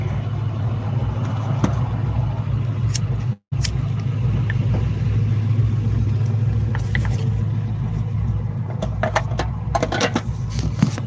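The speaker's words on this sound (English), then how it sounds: "There's a nice truck." A truck on the road outdoors makes a loud, steady low engine rumble that continues throughout, with a brief dropout partway and a few faint clatters and ticks near the end.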